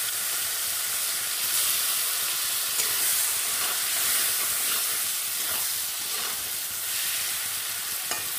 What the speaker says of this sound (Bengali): চিংড়ি মাছটা একটু ভাজা হতে থাকুক বন্ধুরা